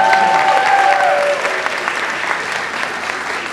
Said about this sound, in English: Clap it up for Kyle.